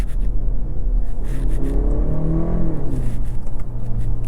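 A 2024 BMW 530i xDrive with a 2-liter turbocharged four-cylinder and 8-speed automatic drives along, its engine a steady, loud low rumble and whir that rises in pitch as it accelerates through the middle, with no talking.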